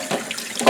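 Tap water running into a pan while pork ribs and chicken are rinsed, a brief close splashing rush with a louder gush at the end.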